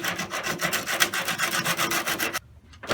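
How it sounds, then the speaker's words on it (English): Rough sandpaper rubbed over a bodywork repair on rusty car metal, giving rapid rhythmic back-and-forth rasping strokes close by that stop abruptly near the end, then a brief faint scrape. "get rough sandpaper and just make sure that there's no high spots"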